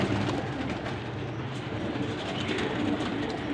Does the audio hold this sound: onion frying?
no